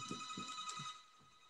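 A home landline telephone rings with steady high electronic tones over faint low background murmur, lasting about a second before fading slightly.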